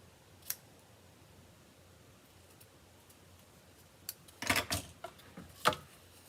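Sharp snipping clicks from ribbon scissors, one early cut followed by a cluster of quick snips later, close up in an otherwise quiet room.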